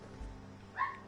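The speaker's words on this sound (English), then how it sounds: "That's Jonah barking in the background" A dog named Jonah gives a short, faint bark from somewhere in the background, a single brief yelp rising over a low steady room hum.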